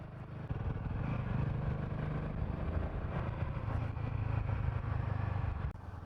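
A motorcycle rides a twisty mountain road through pine forest at night, its engine droning steadily with rising and falling revs as it leans through bends, heard from the bike itself with no talk.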